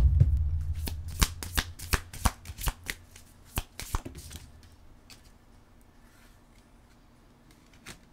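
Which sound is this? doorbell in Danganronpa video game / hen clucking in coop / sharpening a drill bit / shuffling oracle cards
shuffling oracle cards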